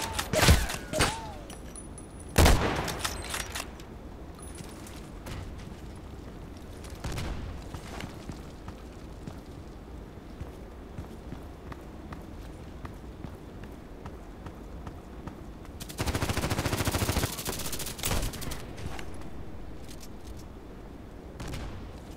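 Pistol shots ring out in a sniper video game, a few sharp, loud cracks spaced far apart over a quiet background, with a longer noisy burst partway through.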